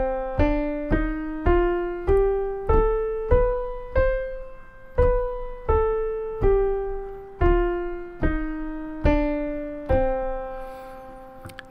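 Melodic minor scale with only the third flattened, played on a piano-like instrument in a music notation lesson, about a dozen evenly spaced struck notes rising then falling, each decaying before the next, close and alone with no talk.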